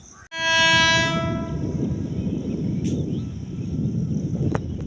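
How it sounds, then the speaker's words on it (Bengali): A loud, sustained train horn blares for about a second near a culvert between Krishnanagar and Shantipur, followed by the rumble of a passing train and a faint higher whistle. "ট্রেনের হর্নটা শুনতে পাচ্ছ"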